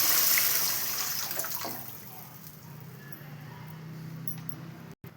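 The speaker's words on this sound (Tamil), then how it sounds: "கரைச்சि வச்ச தக்காளி தண்ணியை ஊற்றிடலாம்" Dissolved tomato water splashes and pours into a pan for rasam, a loud watery rush at first that eases into a quieter, steady trickle and sizzle.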